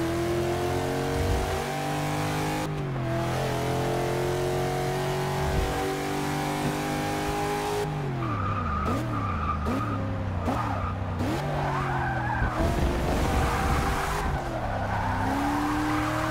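Ultima GTR race car engine in Forza Motorsport 6, revving hard with shifting pitch as the throttle is feathered, punctuated by loud tire squeals and skids through corners, close and continuous.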